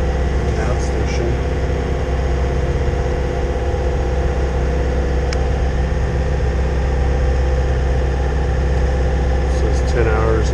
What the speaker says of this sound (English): And so I turned on the motor. I've been motoring for about the last 2 hours.